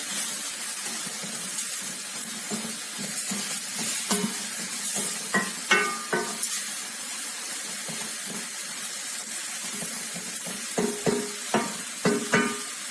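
A spoon stirs a meat stew (güveç) sizzling in a pot with onions, whole garlic cloves and salt, giving a steady frying crackle broken by several sharp scraping knocks against the pot, close and alone.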